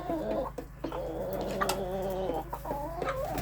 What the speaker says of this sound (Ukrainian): Ну це стара курка, вона якось так себе веде.